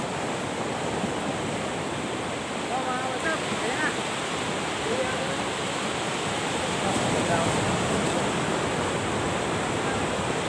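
Sea waves and surf wash steadily along a shoreline where people are heading into the water to hunt crabs, a continuous loud rush of water throughout with no distinct breaks.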